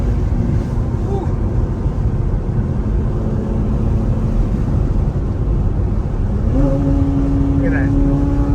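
A sports car engine roars steadily, then revs up with a rising whine as it accelerates, loud and close, with a voice speaking briefly over it.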